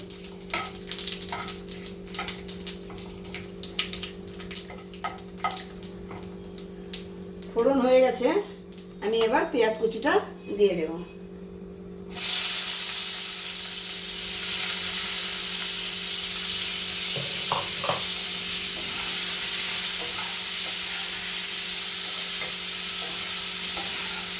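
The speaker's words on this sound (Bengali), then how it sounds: "তেজপাতা জিরে আর গোটা গরম মশলা আর একটা শুকনো লঙ্কা ফোড়নে দিলাম" Bay leaf, cumin, whole garam masala and a dried chili crackle in hot oil for a chicken curry tempering, a loud steady hiss with someone speaking over the early spluttering.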